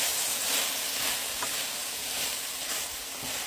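Sliced shishito peppers hitting a hot pan in a smoked sausage stir fry, giving a steady, bright, close sizzle with a hissing wash that stays even throughout, no voices.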